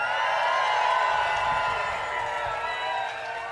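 Crowd cheering and clapping at a Bassmaster Elite fishing tournament weigh-in on the St. Johns River in Palatka, Florida, a loud roaring wall of voices and applause that slowly fades, with a speaker's voice mixed in.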